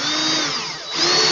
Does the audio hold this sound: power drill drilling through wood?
yes